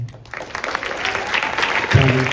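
An audience claps at an honors cohort exhibition night, the applause swelling from a thin start into a steady, dense patter that fills the room.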